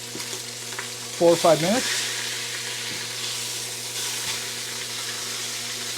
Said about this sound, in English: We're just trying to get a nice sear on the skin.